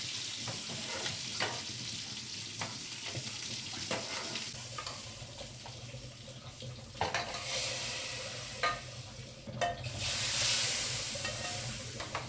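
Spices sizzle in hot oil while being tempered for dal, with stirring scrapes and crackling pops heard close by at a moderate level and no voices.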